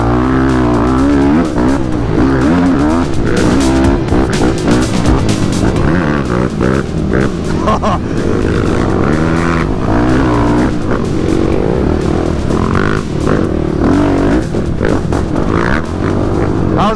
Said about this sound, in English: I talk about how good Yamahas just sound in general